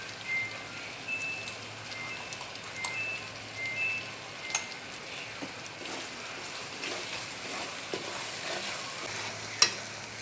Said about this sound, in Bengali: ভালো করে নাড়াচাড়া করবেন